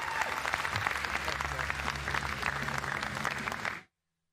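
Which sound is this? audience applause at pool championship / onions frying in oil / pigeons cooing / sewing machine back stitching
audience applause at pool championship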